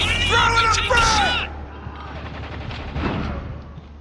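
Gunfire in the video game Spec Ops: The Line, with a dense burst of shots and loud game voice effects up front, then fainter scattered firing and rumble trailing off.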